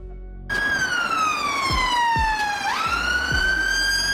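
An Irish ambulance siren, as on a Mercedes-Benz Sprinter, Ford Transit or Volkswagen Crafter, starts abruptly with a long falling wail that sweeps back up, loud and close over rumbling traffic noise.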